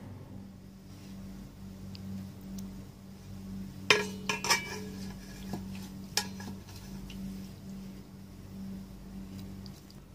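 Fish karahi being dished out of the pan, quiet stirring over a low hum, then a cluster of sharp metal utensil clinks and scrapes in the middle and a few isolated clicks later; no speech.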